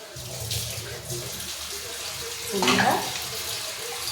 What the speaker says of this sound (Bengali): এই যে মশলা ধোয়া একটু জল দিয়ে দিলাম